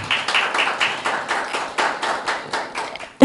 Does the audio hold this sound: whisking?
no